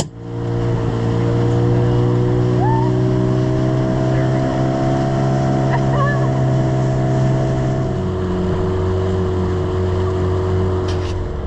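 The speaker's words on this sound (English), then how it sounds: "it's kind of a long dinghy ride" Outboard motor of a dinghy drives it across an anchorage near Savannah on a long ride into town, a steady loud engine drone with water rush running throughout, close and continuous.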